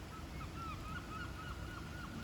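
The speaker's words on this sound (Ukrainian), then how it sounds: "Чайки власне." Seagulls call in a quick series of faint, distant cries over a steady wash of wind or surf.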